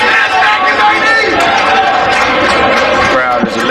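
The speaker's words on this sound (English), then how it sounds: "The crowd is electrifying." A crowd at an MMA flyweight title fight keeps up a loud, dense, continuous roar of cheering and shouting, with talk mixed into the din.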